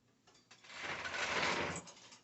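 A sewing machine runs a seam on a pair of shorts, its motor whirring up to a steady buzzing stitch that builds, holds for about a second and eases off, close and alone.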